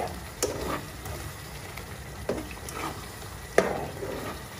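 A spoon stirs beef masala in a pan during cooking, with a few distinct scraping clinks over a soft sizzle, close and moderately loud, with no talk.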